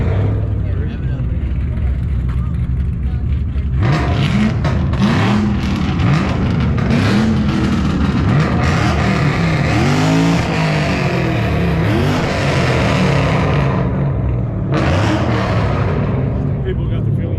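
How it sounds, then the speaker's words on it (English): A car engine revs hard at a large outdoor car meet, rising and falling roars through most of the stretch, loud and close, with people talking and cheering over it. "Yeah, rev it up."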